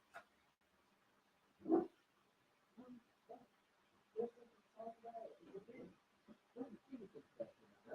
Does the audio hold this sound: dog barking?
yes